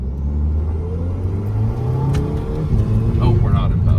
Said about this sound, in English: Maybe I'm gonna actually kind of stop the car, get down into 1st, and then we'll take off with the paddle.